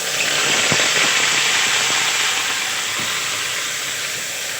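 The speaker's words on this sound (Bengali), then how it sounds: "এখন আমি দিয়ে দেব পেঁয়াজ আর রসুন বাটা।" Onion and garlic paste hits hot oil and sizzles in a loud, steady hiss, with a few faint clinks of a utensil as it is fried for an egg and cauliflower curry.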